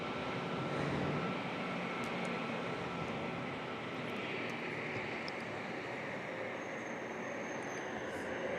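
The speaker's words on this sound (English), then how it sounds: "we got some nice A321neo action here from Delta Airlines." Delta Airlines Airbus A321neo jet at San Diego International Airport, a steady, loud broadband engine roar that holds evenly throughout without pause.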